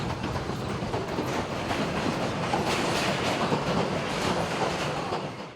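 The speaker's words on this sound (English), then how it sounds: "To enjoy the rhythm of the rails" A train rumbles steadily along the track, with a continuous rolling roar and faint rhythmic clatter of wheels beneath it.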